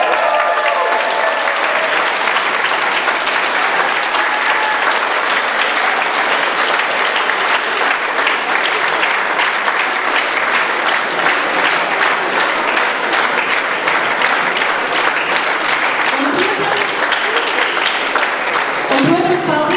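Long, steady applause from a concert audience honours a middle-generation folk dance group at a Dobele cultural event, dense clapping holding evenly, with a speaking voice emerging briefly near the end.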